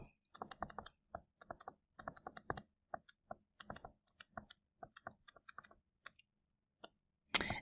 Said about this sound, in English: typing that into our calculator